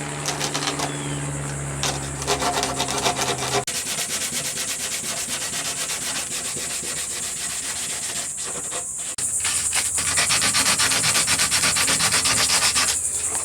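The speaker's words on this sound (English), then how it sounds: "I'm going to go ahead and sand them off back the other way somewhat." Steady scraping rub of sandpaper over the rough edges of a fiberglass patch on a broken surfboard nose, continuous and close, with a brief pause and then a brighter, louder stretch of back-and-forth strokes.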